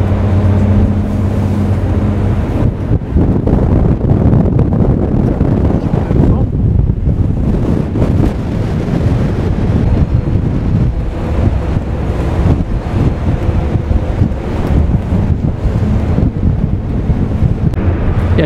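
Strong, steady wind buffets the microphone on the deck of a large boat crossing near Ushuaia, a continuous loud roar with low rumble and possible engine and water noise underneath, no clear speech.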